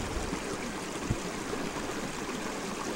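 Water runs steadily through a gold panning setup, a continuous rushing wash with no pauses, close and moderately loud.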